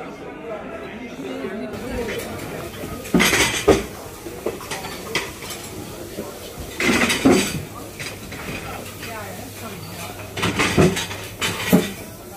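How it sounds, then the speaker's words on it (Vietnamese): Dining area of a Chinese buffet restaurant, with dishes, plates and cutlery clinking in bursts over a steady background of diners chattering. "vào ăn cái buffet ở nhà hàng Tàu"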